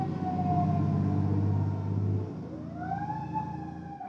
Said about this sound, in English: That damn siren again